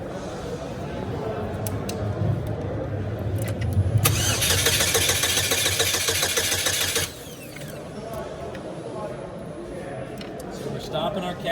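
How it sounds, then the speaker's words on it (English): A car engine cranks over with a fast rhythmic churn for about three seconds, then catches and settles into a running idle, with people talking nearby throughout. "You want to crank it over and see?"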